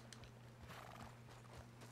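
A horse in the video game Red Dead Online whinnies faintly while its hooves clop softly under a low steady hum, with no talking.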